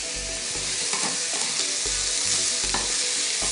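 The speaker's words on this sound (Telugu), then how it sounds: "పొటాటో బాగా ఫ్రై చేసుకోవాలి." Potato pieces frying in a pan for an egg samosa filling, a steady sizzle with repeated stirring scrapes, close and fairly loud, with no talking.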